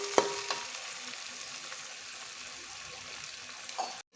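Spiced chicken marinated with turmeric and salt, frying in oil for a chicken dum biryani; a soft, even sizzle holds throughout, with a couple of faint knocks near the start and end, no talking.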